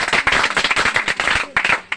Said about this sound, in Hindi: एक बार जोरदार ताली बजा के बताइए